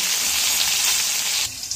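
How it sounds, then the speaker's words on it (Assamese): Loud, steady sizzling of brinjal frying in hot oil in a wok, a continuous crackling hiss that eases slightly near the end. "এয়া দেখিছে বেঙেনা ভাজাখিনি হৈ গ'ল"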